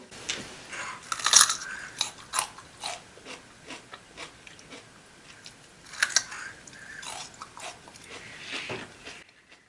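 Teeth bite and crunch into a homemade sour plum preserve, a series of close, crisp chewing crunches in irregular clusters, with brief quiet gaps between bites and no talking.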